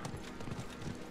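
Hooves of a ridden horse in the video game Diablo IV clip-clopping in a quick steady rhythm, brief and fairly faint amid game ambience.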